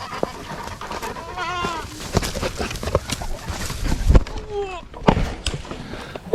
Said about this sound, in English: we caught up with Gravy, the cutest little goat, out here in the goat pen